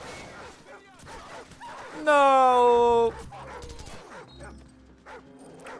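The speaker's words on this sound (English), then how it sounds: "No! That's a dog!" A dog in the Call of Duty 4 video game lets out one loud, drawn-out yelping whine lasting about a second, with excited talking before and after it.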